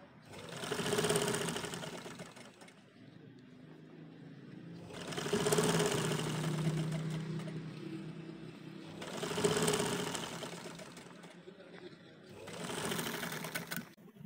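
Sewing machine stitching the sleeves of a kurti, running in four long bursts with brief pauses between them, steady whirring and rattling up close, with a voice talking faintly between runs.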